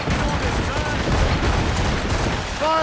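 Ship cannon volleys in Assassin's Creed Rogue, a dense, loud rumble of booming fire and battle noise with shouting voices over it.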